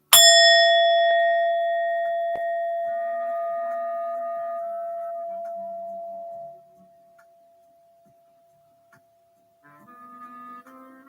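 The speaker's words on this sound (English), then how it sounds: "because I really love my singing bell" A metal singing bell struck once for sound healing, a bright near ding with a long pure ringing tone that slowly decays over several seconds, then fades into quiet with faint later tones.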